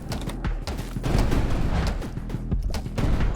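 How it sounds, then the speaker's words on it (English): Rapid explosions and gunfire from the video game 20 Minutes Till Dawn crackle in a dense, loud burst of overlapping bangs with sharp pops sprinkled throughout. "we are sending out 2 explosions pretty close to each other"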